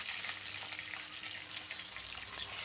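Battered prawns fry KFC style in hot oil with a constant, even sizzling hiss that lasts throughout and has no voices over it.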